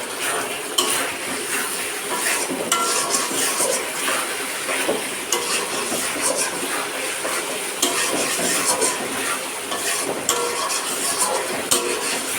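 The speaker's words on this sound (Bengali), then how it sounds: "তো ভেজে রাখা আলুগুলো আমি দিয়ে দিলাম।" Previously fried potatoes stirred into a spice masala in a pan, steady frying hiss under frequent clattering scrapes and knocks of a utensil against the metal, fairly close and busy.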